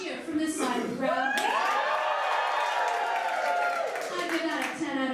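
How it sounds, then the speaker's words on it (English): Studio audience at a live comedy show cheering and clapping loudly from one side of the crowd, a dense sustained roar of voices and applause with whoops rising over it throughout. "Let's hear a good rousing cheer from this side of the crowd."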